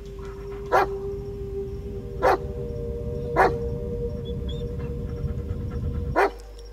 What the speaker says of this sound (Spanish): Bueno, perro, callate